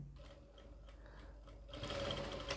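A sewing machine stitches a hospital nurse coat, quiet at first and then running louder and faster in a steady mechanical whir over the last second.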